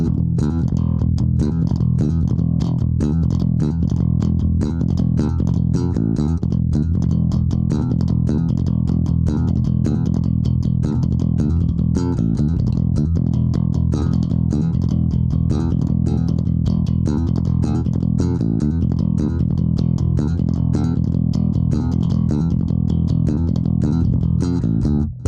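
A Cort A5 Ultra Ash five-string bass, picked with both pickups on and the active EQ flat, plays a steady, loud, sustained line of punchy repeated notes throughout, with no voices over it.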